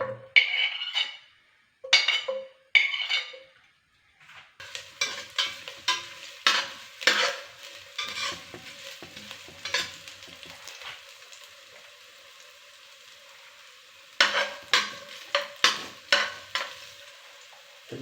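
Ginger sautés in about two tablespoons of oil in a pan, giving sharp bursts of sizzling crackle and scraping stir strokes that come in clusters separated by quiet gaps.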